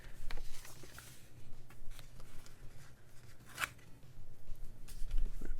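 Scissors trimming a laminated bookmark, quiet close snips and plastic rustles over low background hum.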